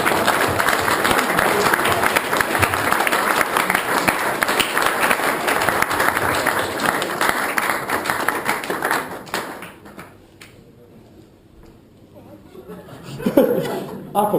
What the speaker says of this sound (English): Would you like to give a round of applause to the bridesmaids?